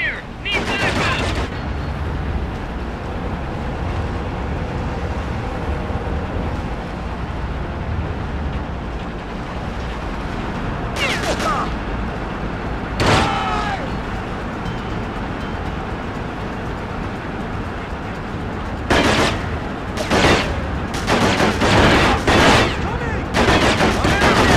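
Gunfire in the PS2 game Delta Force: Black Hawk Down on the Doroud oil rig, with sharp bursts and rapid shots cracking over a constant roaring ambient bed, growing denser toward the end.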